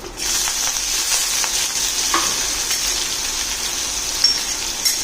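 Red chillies, curry leaves, a pinch of asafoetida and ginger with green chilli hiss and crackle in hot oil for a Gujarati sweet-and-sour dal, a loud, continuous close sizzle with a few small clicks near the end.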